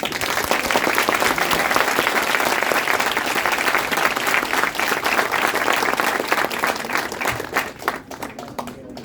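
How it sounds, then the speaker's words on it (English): Audience at a college HR conclave applauding a speaker, a dense, even burst of many hands clapping that holds steady before thinning out near the end. "So round of applause for Shyam sir."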